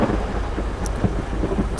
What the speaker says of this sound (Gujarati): વરસાદ ચાલુ છે એટલે અત્યારે નહીં નીકળાય.